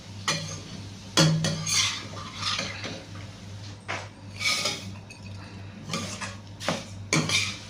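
Metal utensils clink and scrape against a pan and bowl while vermicelli (semiya) is stirred and fried, a series of close, bright clinks and knocks over a low steady hum, with no talking.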